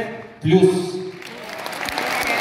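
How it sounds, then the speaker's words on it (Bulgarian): Applause for the Gracia Varna rhythmic gymnastics team, a 50+ club, swells into a steady broadband patter after a brief voiced sound at the start and continues evenly to the end. "Силни аплодисменти за нашите приятелки от Грация Варна"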